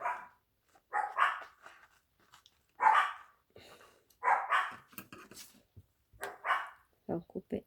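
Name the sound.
dogs barking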